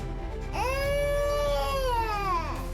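A baby cries in a Toca Boca game, one long wailing cry that rises sharply, holds steady and falls away over a steady low background hum.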